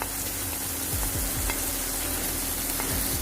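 Turmeric, chili and coriander powders stirred into an okra curry in a pan over a low flame, a continuous close sizzle with repeated scraping strokes of a spoon, no voices.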